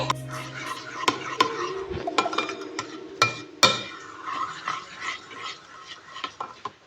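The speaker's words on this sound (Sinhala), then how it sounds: "එකින් එක දාලා තමයි අපි බීට් කරන්නේ" Cake batter ingredients are beaten in a bowl, producing close clinking, scraping and tapping of utensil against bowl at an irregular rhythm, with a few sharper knocks.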